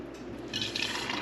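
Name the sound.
pouring chai tea through a sieve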